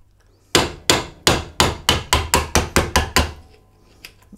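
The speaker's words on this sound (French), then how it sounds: "Donc là, quelques coups secs." Around ten sharp metallic hammer blows strike a Maillard freewheel cone to loosen it, coming in a quick, even series up close, each crack decaying fast, followed by a couple of faint taps.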